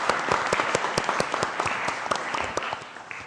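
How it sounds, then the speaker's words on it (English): Audience applause fills a select board meeting room, a steady patter of many hands clapping at moderate volume throughout, with no speech over it. "I'd like to have the audience give Emma a round of applause for her encouragement"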